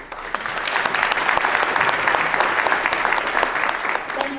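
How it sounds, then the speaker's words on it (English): An audience at a Veterans Day ceremony in Belleville, Illinois applauds students, dense sustained clapping from a crowd filling the hall, steady and loud throughout. "let's give one more round of applause to these students from 118"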